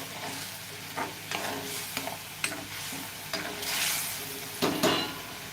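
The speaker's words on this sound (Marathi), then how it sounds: "आता सर्व मसाला चांगला असा तेल सुटेपर्यंत आपल्याला परतून घ्यायचं आहे" Masala spice paste sizzles and crackles in hot oil for a cauliflower and potato curry while a spoon stirs and scrapes the pan in irregular strokes, close and steady.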